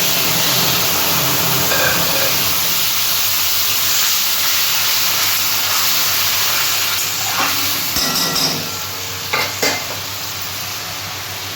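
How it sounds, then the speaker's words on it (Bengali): Ginger, green chilli and tomato paste sizzling and spitting in hot oil, a loud, steady frying hiss with stirring scrapes, easing slightly toward the end, no voices over it. "এখানে আদা কাঁচা লঙ্কা টমেটো বাটা আছে,"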